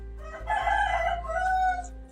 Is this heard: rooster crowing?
yes